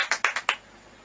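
A church congregation clapping hands, a quick burst of about five sharp claps in a row, close and crisp, then quiet room tone.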